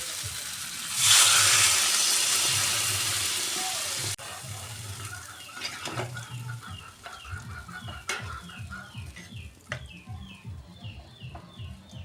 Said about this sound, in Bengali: কষানো হয়ে গেছে, এবার জল দিয়ে দেবো।